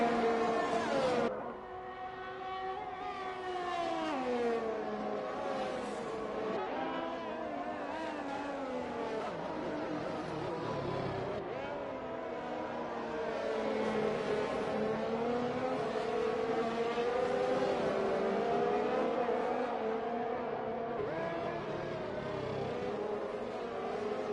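Race cars in a sim racing game at a Brazil circuit, a continuous layered engine whine from several cars shifting pitch through gear changes and corners, moderately loud and steady throughout.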